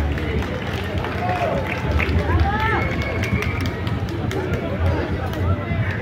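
Audience applause for a band at a traditional community celebration in Ocotlán de Morelos, Oaxaca, a steady dense wash of clapping and crowd noise lasting several seconds with voices and chatter mixed in.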